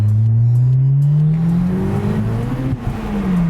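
A 406 hp turbocharged Honda S2000 accelerates hard, its engine note loud and close, climbing steadily in pitch across the run with no talking.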